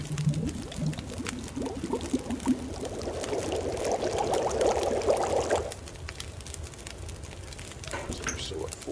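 Melted snow boiling in a pot in the survival video game The Long Dark, a soft bubbling and gurgling that swells in the middle, then eases back to a quieter simmer.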